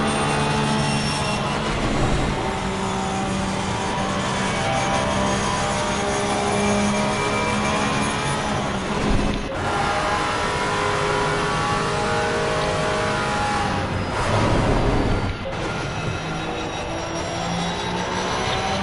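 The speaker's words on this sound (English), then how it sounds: "The car's in flat out." A race car engine holds full throttle in Assetto Corsa Competizione at Paul Ricard, a loud, continuous roar with a steady tone that rises and dips slightly over about nineteen seconds, with no voices.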